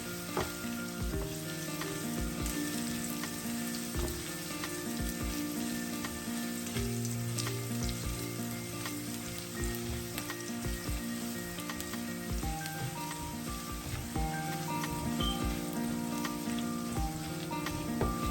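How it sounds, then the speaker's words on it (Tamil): Crushed ginger and garlic sauté in hot oil for a chicken liver fry, making a loud, steady crackling sizzle that continues throughout with occasional stirring. "இந்த வாசம் போக மட்டும் கொஞ்சம் வதக்கி கொள்ளுவோம்"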